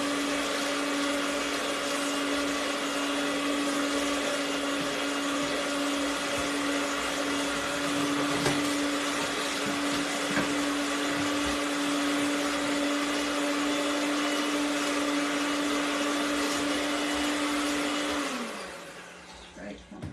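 An electric mixer whirs loudly and steadily through pineapple upside-down muffin batter, holding a constant motor tone for about eighteen seconds before winding down and stopping.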